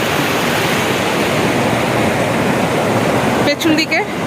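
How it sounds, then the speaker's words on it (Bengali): Strong river current rushes through Betaab Valley in Kashmir, a loud, steady broadband roar of fast water filling the scene, with brief voices breaking in near the end. "প্রচন্ড স্রোত, জলটা প্রচন্ড স্রোত"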